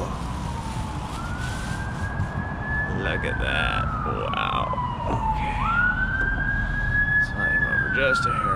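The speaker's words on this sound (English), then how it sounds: "Sorry about the sirens," Emergency vehicle sirens pass outside during a tie-dye rinse session, a loud wailing tone sweeping up and down continuously over a background rumble, while a person talks briefly over it.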